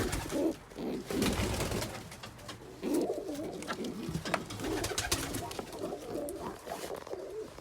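A young pigeon calls in repeated, wavering low coos and murmurs over a steady background rustle, close and moderately loud.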